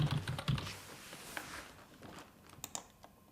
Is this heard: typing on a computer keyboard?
yes